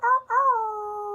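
A voice imitates a wolf howl, one short rising call followed by a longer, sustained howl that slowly falls in pitch, close and clear with no other sound.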